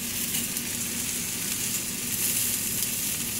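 Spices are stirred into a shrimp paella pan that sizzles steadily and loudly with crackling oil, a continuous close-up fry with no talking.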